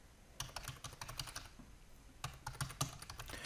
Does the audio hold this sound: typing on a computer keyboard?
yes